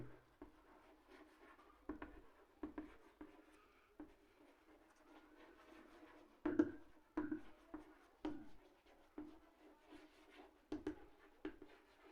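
Chalk or a marker moves across a board in short, scattered strokes and taps, faint and close, with quiet gaps between bursts and no talking.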